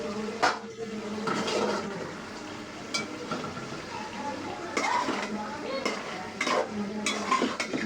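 Vegetable stalks being sautéed in a pan for a village-style curry, a soft continuous sizzle with repeated spatula scrapes and knocks against the pan, fairly close and moderately quiet.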